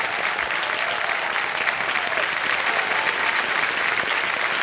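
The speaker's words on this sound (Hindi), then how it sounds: "चेक आ रहा है इनके नाम और ताली बज जाए बहुत जोर से।" A studio audience on Kaun Banega Crorepati Season 14 bursts into loud, dense, continuous applause that fills the whole stretch without letting up.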